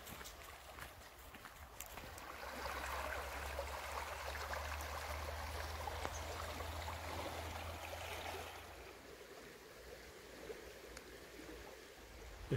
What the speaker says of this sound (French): Il y a déjà une petite rivière qui passe par ici.